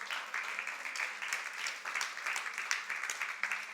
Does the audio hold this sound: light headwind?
no